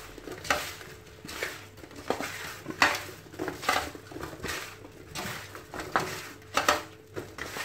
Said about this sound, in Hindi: Mix it well and then fry it.